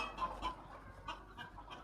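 Ornamental chickens in a coop cluck softly and intermittently. The short calls are faint and somewhat distant over a low background hum, with no voices.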